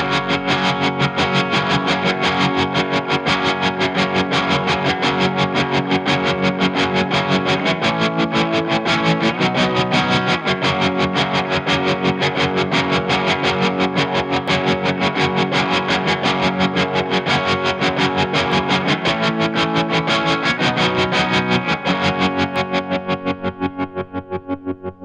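Electric guitar through a Mooer Trelicopter tremolo pedal, played with a gritty, choppy staccato tremolo that pulses rapidly and steadily for the whole passage, loud and alone before fading at the end.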